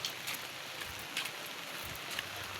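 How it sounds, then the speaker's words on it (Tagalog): Steady heavy rain patters on a surface with a constant hiss, scattered drops tapping nearby, and no voices. "Inabot na tayo mga kaparcel ng ulan eh."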